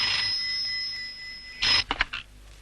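A red telephone rings in a Hindi-dubbed action film: a steady electronic ring tone holds for over a second, then a louder short burst follows, broken into a few rapid pulses, with no one talking.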